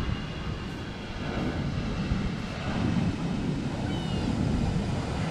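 A passenger jet, a Superjet, roars steadily overhead near an airport, a broad rumbling drone that swells slightly as it passes, with wind noise in the background.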